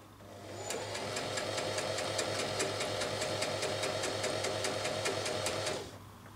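A sewing machine stitches chiffon fabric in one continuous run, giving a rapid, even mechanical chatter. It starts up, holds a steady pace for several seconds, then stops, close and clear with no talk.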